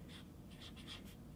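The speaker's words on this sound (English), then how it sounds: "Now I'm gonna write my name on it." A pen writes a name on paper with soft, close scratching strokes in a few quick bursts, quiet and alone.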